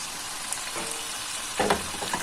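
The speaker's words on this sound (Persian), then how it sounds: "وقتی که مطمئن شدیم که روغن کاملا داغ هست، پیازها رو درون روغن میریزیم" Sliced onions sizzle in very hot oil as they fry toward crisp golden fried onions, a constant hiss that swells into a louder burst partway through.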